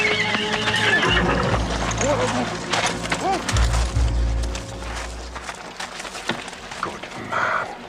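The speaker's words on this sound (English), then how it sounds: "Stop that horse." A horse whinnies loudly several times over clopping hooves, with agitated voices and commotion around it.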